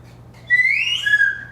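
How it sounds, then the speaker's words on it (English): A person whistles a single rising, sliding note, loud and close, held for about a second after a short quiet pause. "do the whistle"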